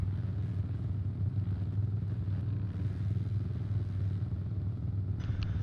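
Motocross motorcycles at an Open Pro race crossing the finish line, a steady loud engine roar and rumble that holds throughout, heard from a moderate distance.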